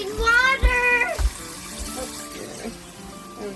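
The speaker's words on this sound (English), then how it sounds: "Running water in our house." Water gushes from a newly connected house tap as it is slowly opened, a steady splashing flow beneath excited voices of adults and children talking close by.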